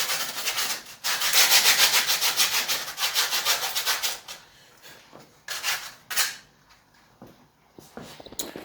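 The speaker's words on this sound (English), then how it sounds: "just clean the joint with a little bit of sandpaper." Sandpaper rubbed back and forth over a mitred kitchen cabinet cornice joint, a close, steady scratchy sanding in quick strokes that fade into scattered brief rubs and taps toward the end.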